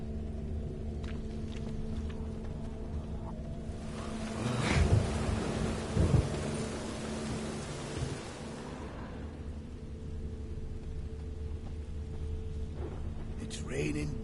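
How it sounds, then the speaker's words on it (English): Heavy rain and thunder in The Witcher 3 video game: steady rain hiss and a low drone, with a loud rolling thunder swell breaking in near the middle and fading back into the downpour. "It's raining buckets."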